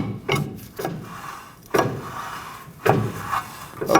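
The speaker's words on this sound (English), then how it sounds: "Slide the rotor on, and let's check for the adjustment of the shoes." A brake rotor slides onto the rear brake shoes of a 2011-2016 Ford F-350, giving repeated close scraping, rubbing metal-on-metal sounds in several short bursts with no talk.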